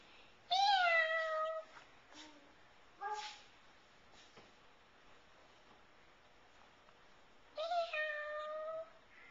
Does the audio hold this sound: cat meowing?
yes